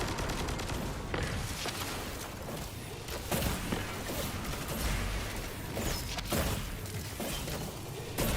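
Gunfire from the legendary Retrofit Escapade light machine gun in a video game, sustained bursts of rapid shots with sharp impacts and crashes layered through a busy, loud mix.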